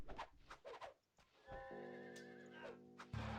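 A horse whinnies in a Rise of Nations strategy game match, a long, clear neigh rising out of the game's battle sounds after brief talk from commentators.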